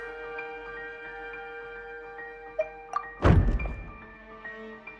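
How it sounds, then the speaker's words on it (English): A sudden heavy thud and clatter of a decoration toppling and hitting the floor in Genshin Impact cuts through a steady musical background and quickly dies away. "I seem to have accidentally knocked over a decoration."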